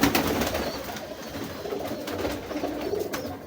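Soft, low pigeon cooing close by, continuous murmuring calls over a rustling background.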